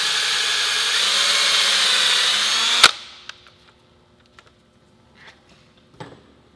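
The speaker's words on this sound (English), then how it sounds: "I use my drill with the 1/8 inch bit, go through the center hole" A power drill with a 1/8 inch bit whines steadily at close range, boring into plaster, for about three seconds, then stops abruptly, followed by a few scattered taps and light clatters.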